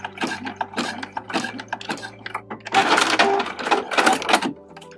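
A sewing machine runs stitches through fabric while sewing a giant scrunchie, a rapid mechanical chatter in quick bursts with brief pauses, ending in a longer busy run, loud and close.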